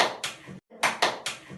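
A fifth-grade class does a rhythmic clapping chant in a microteaching lesson, with distinct grouped claps in a patterned beat, a short pause, then another set of claps, close and clear.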